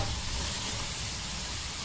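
Spinach puree hitting a hot tempering of red chili, cumin and garlic for palak khichdi, a close steady sizzle and hiss that holds evenly without any voices.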